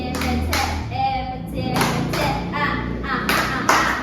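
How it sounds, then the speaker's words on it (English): A classroom of students performs a rhythmic group clap, sharp bursts of hand claps in a patterned sequence, with a teacher's voice heard between them. "So EPT clap goes like this."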